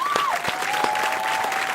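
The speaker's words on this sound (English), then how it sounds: "Just give yourself a round of applause" An audience claps in a steady round of applause, a faint sustained tone running through it, moderately close and continuous with no voices on top.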